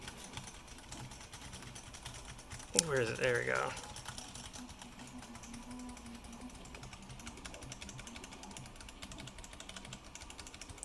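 Typing on a Riskeyboard 70 mechanical keyboard, with switches not yet broken in, comes through as a fast clatter of keystrokes against a steady background, with a person talking briefly over it.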